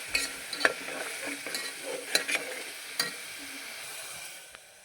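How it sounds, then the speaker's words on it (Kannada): Ground coconut masala paste fries in oil with a quiet, soft sizzle, punctuated by a few sharp spatula clicks and scrapes as it is stirred. "ಸ್ವಲ್ಪ ಚೆನ್ನಾಗಿ ಎಣ್ಣೆಲಿ ಫ್ರೈ ಮಾಡ್ಕೋಬೇಕು"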